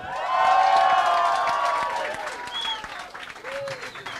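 A live audience at a tribute concert applauds and cheers a singer taking the stage, loud clapping swelling at first then gradually thinning, with whistles and crowd voices mixed in.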